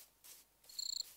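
Crickets in a video game chirp softly in short rhythmic trills, faint and steady over a quiet background with no voices.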